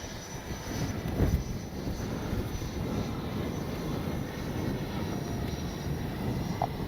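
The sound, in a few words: FlyFans Su-27 64mm RC jet coming in to land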